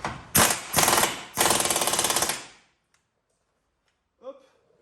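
A torque wrench tightening a cylinder block bolt on an Apolo Green youngtimer moped: loud ratcheting bursts with rapid clicking, then silence and a faint short voice at the end.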